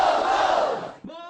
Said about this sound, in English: Tzu Chi volunteer Liu Jiyu leads Tacloban residents in a cheer.